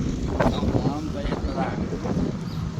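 Strong wind buffets the microphone in a constant rough roar outdoors, while people talk over it.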